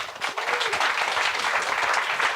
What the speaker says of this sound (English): can we get a massive round of applause for our panel?